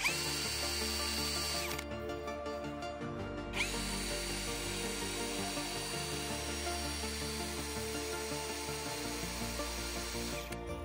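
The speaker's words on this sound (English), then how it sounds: "Reverse. Let's have a look at how straight the chuck is." A Parkside Performance PSBSAP 20-Li C3 cordless hammer drill whirs steadily in reverse up close, its motor pitch shifting as it is stopped briefly and restarted several times.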